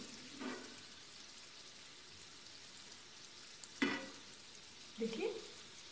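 Donuts frying in hot oil make a steady, soft crackle throughout, with a few brief louder clatters of handling partway through and toward the end.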